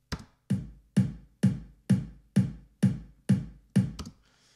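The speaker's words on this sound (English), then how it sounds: "So the overall kick drum sounds like this" Processed kick drum sample played alone, eight evenly spaced punchy thumps with short tight decays in a steady beat, followed by a faint quick double hit at the end.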